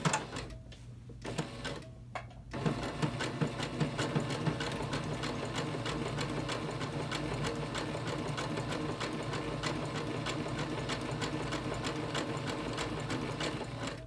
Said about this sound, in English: Since I have it placed, I'm going to take this first pin out so I'm not sewing over it,